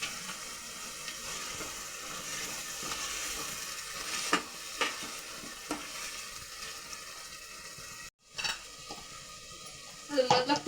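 Rice, about half a kilo, tipped into a pot and stirred for palak pulao, with soft scraping, scattered clinks and a low background sizzle, ending in a few sharper knocks against the pot.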